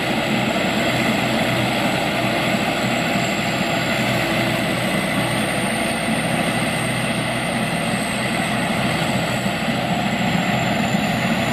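An older rice combine harvester's engine runs steadily at full power: a loud, constant mechanical drone with a faint high whine, close by and unbroken, no speech.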